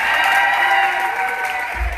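Audience at a live concert applauding for the dancers, a steady wash of crowd clapping with faint cheering.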